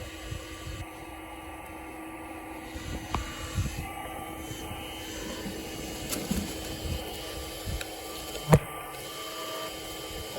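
A Makita battery-powered vacuum runs steadily close by as a continuous airy whine and hiss, with a few faint knocks and bumps over it.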